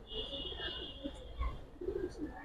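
Giribaz and colored pigeons cooing at a pigeon seller's, soft low coos repeating at close range with faint background noise and a muffled bump.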